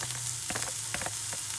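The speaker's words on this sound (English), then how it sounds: "water on low, you can still hear the kind of sizzle" Garlic and onions sautéing in a pan with a little water on low heat, a steady close sizzle and crackle with faint stirring scrapes throughout.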